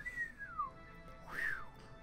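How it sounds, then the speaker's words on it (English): A person whistles two short gliding notes, the first falling and the second rising then falling, faint and thin against a low background hum, with no talking over them. "I can't whistle that good."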